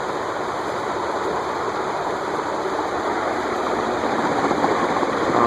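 A Leading Edge A-60 industrial ceiling fan with slightly bent blades spins down, making a steady loud airy whoosh with a faint underlying hum, heard close and without talk.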